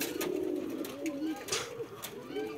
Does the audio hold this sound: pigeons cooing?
yes